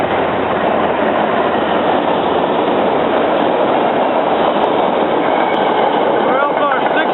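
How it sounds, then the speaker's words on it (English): SEPTA R5 work train rolling through Jenkintown station, a loud continuous rumble of wheels and rail noise close by, with rhythmic clatter and faint squeals toward the end. "we got the R5 work train coming in through Jenkintown"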